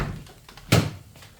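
A car door on a 2014 Chevrolet Spark opens with one sharp, close thunk, set against a low background hum.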